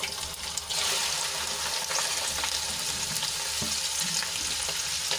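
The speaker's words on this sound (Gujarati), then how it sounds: "હવે ભીંડાની એડ કર્યા બાદ આપણે તેલમાં સરસ રીતે એને મિક્સ કરી લઈશું" Okra sizzles and fries in hot oil with asafoetida and popped mustard seeds, stirred in a pan, a steady close, dense crackle running throughout with a brief stirring scrape.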